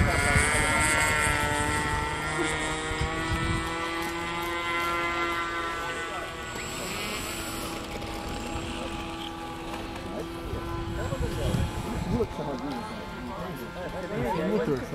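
A Great Planes SU-31 electric RC airplane whines as its motor spools up for takeoff, the propeller pitch climbing and then fading as the plane pulls away. People talk excitedly over it throughout.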